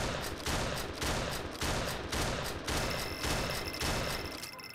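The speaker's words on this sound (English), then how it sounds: "Go shoot up the arcade's reward section with Furious Rage." Gunfire in a virtual arcade's shooting game comes as loud, rapid bursts of repeated shots. The volleys follow one another in a steady rhythm with only brief gaps between them.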